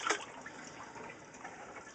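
Water runs steadily through an aquarium siphon linking an inner and outer box, a continuous soft trickling and gurgling wash, close and alone.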